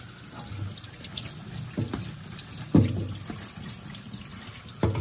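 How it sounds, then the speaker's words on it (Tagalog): Seafood for a tinola fish stew is rinsed under running water in a sink, a steady close trickle and splash with a few sharper knocks and sloshes. "Ikaw man og blanch, imo siyang waswasan sa tubig."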